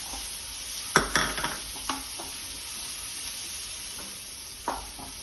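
Green chillies, ginger and finely chopped onions fry in a pan with a constant close sizzle, punctuated by several metallic clanks and scrapes of a spoon stirring, with no speech.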